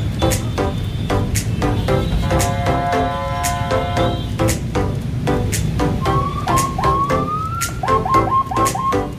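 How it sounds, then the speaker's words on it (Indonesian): Siren wailing from a civilian car in city traffic at a junction with a red light, steady oscillating tones over a constant road and engine rumble, with repeated short electronic yelps sweeping upward. "Mobil preman pakai sirine."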